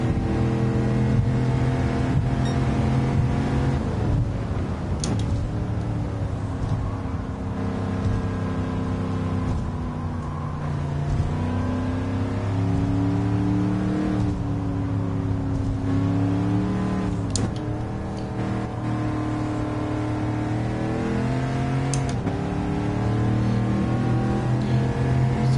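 A car engine in Gran Turismo 7 revs and accelerates steadily, its pitch climbing through repeated gear changes with brief drops between shifts, a smooth, somewhat muted drone heard alone without talk.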